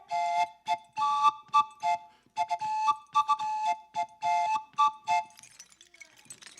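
A train whistle reworked to mimic a circus merry-go-round calliope plays a bright, tuned melody of short, separate piping notes in a bouncy rhythm, close and clear, trailing off into a soft hiss.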